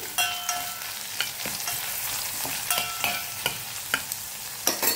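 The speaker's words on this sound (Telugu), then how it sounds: "అందులో మనం కట్ చేసి పెట్టుకున్న ఉల్లిపాయ ముక్కలు కూడా వేసుకోవాలి. అవి కొద్దిసేపు వేయించి" Chopped onion pieces frying in a pan for Bombay chutney, a steady close sizzle with regular sharp scrapes of a stirring spoon, no voices.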